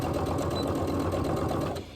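A sewing machine runs steadily, stitching quilt binding onto a heavy double-batted quilt with a 1/4 inch seam, a continuous close mechanical whir that fades slightly at the end.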